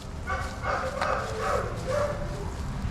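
Large dog giving a few short, muffled barks and yips, fairly faint and spread across a few seconds, with a low room-like background hum and no clear speech.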